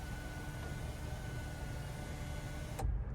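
Power sunroof on a 2023 Chevrolet Traverse Premier sliding back: a steady, low motor whir and hum inside the cabin for about three seconds, ending with a soft thump as the panel stops.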